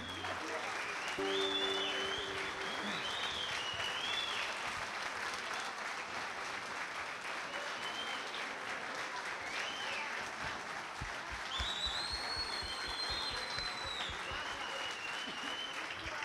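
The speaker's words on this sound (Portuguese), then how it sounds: "Por favor, a equipe AF aqui no palco, um aplauso de vocês" A crowd at a champions' celebration for the AFIA Brazil Bahia 2018 cup applauds the AFIA team on stage. The clapping is steady and sustained, with whistles and cheers rising over it and brief voices mixed in.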